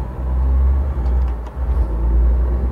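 A truck engine rumbles steadily as the unloaded rig pulls away in seventh gear, a loud low drone with slight dips and swells and no talk over it.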